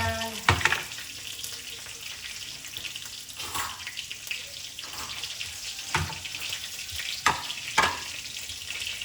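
Cumin seeds and chili sizzle in hot oil in a pan, a loud continuous crackle with sharper spits and stirring clatter now and then, heard up close.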